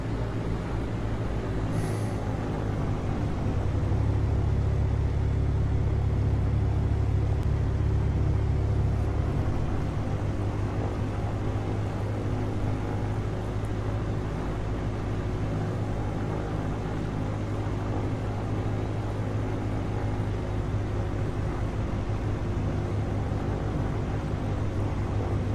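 Mooney Bravo engine in Flight Simulator X throttling up on a runway approach near trees, a steady loud droning rumble with a brief surge in low power early on, continuing evenly throughout.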